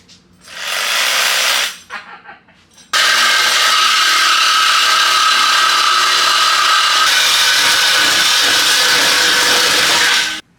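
Power cutting tool slicing through the exhaust muffler pipe on an EK/EG Honda Civic: a brief rough burst and sputter, then a loud, steady, harsh grinding whine held close for about seven seconds before cutting off.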